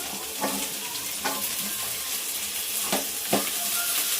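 Capsicum and chilli frying in a pan for Bangalore-style gobi manchurian, a steady close sizzle with a few sharp scraping stirs spaced through it, no voices.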